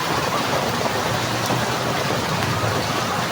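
Rain and wind beating outside a tarp shelter during a rainy day: a dense, steady hiss of falling water with a low rumble of gusts, loud and close, continuing without pause and with no talking.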